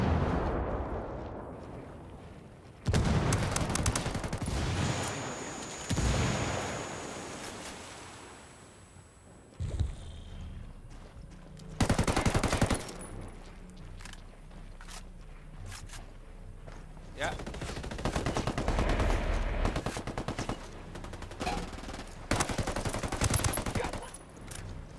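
Gunfire in the Ghost War video game, sniper shots among bursts of loud, crackling weapon fire spread across the stretch, with a player talking over it.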